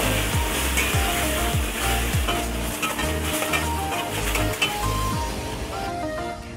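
Chicken curry masala sizzles steadily in a pan as salt is added and it is stirred, with loud close frying hiss and a repeated rhythmic scraping of the spoon against the pan.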